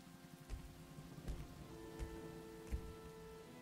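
Rain effect from a horror audio drama: a soft, steady patter of raindrops with a few heavier low thuds recurring at intervals, faint and without voices.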